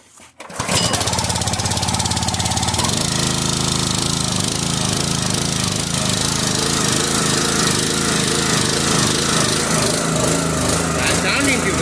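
A Forest King log splitter's small gas engine starts and runs at full throttle, settling into a loud, steady, rapid pounding drone with a slight wavering in its pitch throughout.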